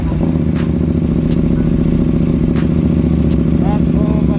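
A KTM 790 Duke motorcycle with a new fuel pump and check engine light runs on a road test, a loud steady engine drone close by with a voice talking over it.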